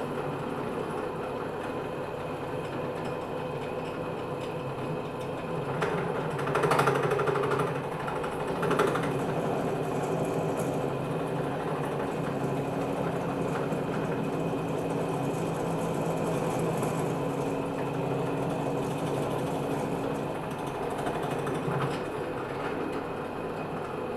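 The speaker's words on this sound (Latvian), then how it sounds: "Urbšanu veids bez uzspiešanas, ļaujot urbim pašam veikt darbu." An electric drilling machine bores into a workpiece, running evenly without pressure on the bit; a steady motor whine and hum with a few louder grinding surges, no talking.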